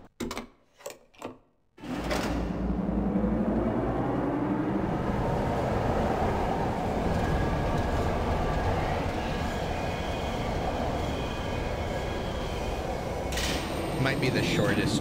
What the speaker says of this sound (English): Might be the shortest tram ride in the game.